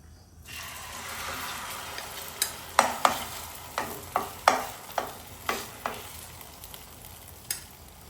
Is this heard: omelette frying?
yes